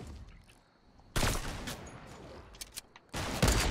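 Hunting rifle shots ring out in the video game Fortnite, a sudden loud burst of gunfire, a short pause with scattered cracks, then another heavy volley near the end.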